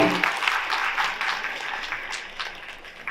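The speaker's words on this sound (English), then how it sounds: "Let's hear it big time for Aryan." Audience applause at a women of excellence celebration event, a dense patter of many hands clapping together at moderate volume, tapering slightly near the end.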